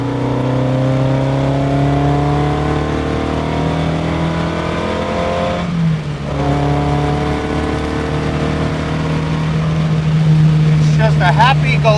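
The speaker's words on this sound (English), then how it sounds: "let's downshift to 3rd. And we can just pull from 3rd gear." A 1960 Lotus Elite pulls hard in third gear on back roads, engine note climbing steadily from inside the car, loud and close, with a brief drop mid-pull before revving up again.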